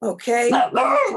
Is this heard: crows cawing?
no